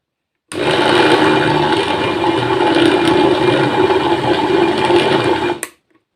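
Blender whipping berries, sugar and cream into banana-strawberry ice cream, a loud steady whir that runs continuously for about five seconds and then cuts off abruptly.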